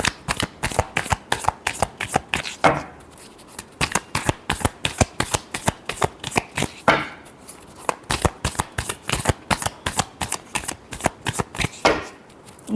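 Tarot cards riffle-shuffled close up in quick repeated bursts, a crisp flurry of card flicks pausing briefly every few seconds before starting again, with no talk.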